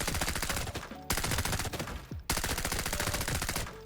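Rapid automatic fire from a budget VSS suppressed rifle in the shooter game Arena Breakout: Infinite, using tier 5 ammo, in three dense bursts of fast, steady shots with brief gaps between them, loud and close.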